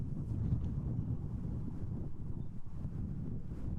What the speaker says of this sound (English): Ooh, wind gusts are getting stronger. I think you guys hear. It's getting a lot stronger now.